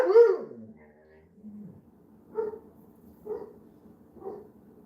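A dog named Pressure gives a whining yelp followed by three short, evenly spaced barks, moderately close and alone.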